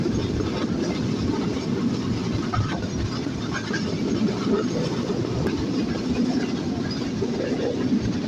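Chilahati Express passenger train travelling from Chilahati to Dhaka near Birampur, with a loud continuous onboard rumble and rattle of wheels on rails, steady and close, no talking.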